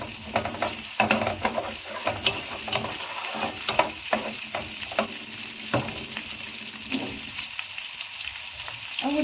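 Lamb tail fat sizzles and crackles steadily in a hot pan while being stirred to render it down, with scraping stirs and bursts of popping spread throughout for a festive meat dish.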